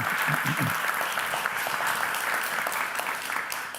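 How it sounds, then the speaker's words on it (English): An audience applauds a government minister at a conference on Greenland, steady, loud, sustained clapping with a few low knocks at the start. "A warm applause I'd like to suggest for Minister Nathanielsen."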